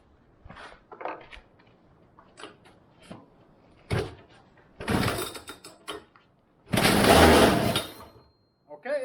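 An old go-kart engine being pull-started after fuel is primed in the carburetor, giving short mechanical bursts and pulls that build to a louder sustained cough near the end, with quieter clattering between attempts.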